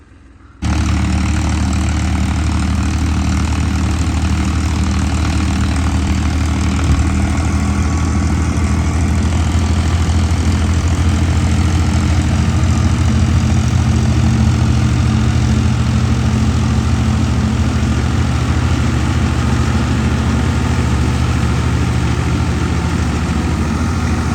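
A tractor engine drones steadily in a field, starting abruptly and then holding a loud, even, low rumble throughout, with no talking.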